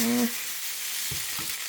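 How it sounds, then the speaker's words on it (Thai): Drunken noodles with basil stir-fry in a pan with a brief, steady sizzle; a short voice sounds at the very start, then two quick scraping stirs. "ผัดขี้เมาของเราเองเลยนะคะ"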